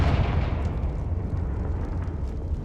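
Confringo spell explosions in the video game Hogwarts Legacy, a dense, rumbling roar of blasts and crackling bursts at steady moderate loudness, with no speech over it.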